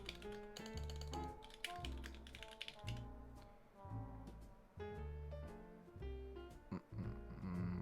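Typing on a Holy Switch Southpaw 75 keyboard with Gateron yellow switches: rapid, close clacky keystrokes tumble in uneven bursts, with short pauses between flurries and a heavier thock now and then.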